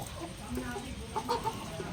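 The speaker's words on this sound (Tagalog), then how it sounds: "ito yung mga manukong Tagalog" Several native Tagalog chickens cluck softly nearby in short, scattered bursts over a quiet background.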